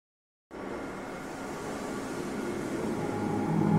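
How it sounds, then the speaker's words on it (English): Train ride in the video game Black Mesa, a steady rumbling rail ride that begins abruptly from silence and holds a continuous drone, slowly growing a little louder with no voices. "This train is inbound"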